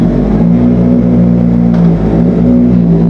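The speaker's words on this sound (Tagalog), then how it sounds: "Grabe, ang lakas ng exhaust dito. Umuugong." A Kawasaki ZX-4RR motorcycle exhaust roars in a loud, steady drone close by, its pitch shifting slightly as the engine note rises and settles, with no voices.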